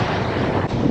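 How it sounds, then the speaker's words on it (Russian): Steady wind by the sea on a waterfront promenade at Kuşadası, Turkey, buffeting the microphone in a continuous, fairly loud rush with a brief dip near the end and no voices. "И ветерок классный."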